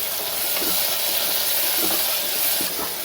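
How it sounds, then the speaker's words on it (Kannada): Onion and tomato frying in a pan for tomato bath give off a steady, fairly soft sizzle and hiss, with a few faint clinks of stirring underneath. "ಇನ್ನೂ ಸ್ವಲ್ಪ ಚೆನ್ನಾಗಿ ಫ್ರೈ ಮಾಡ್ಕೊಳ್ಳಿ."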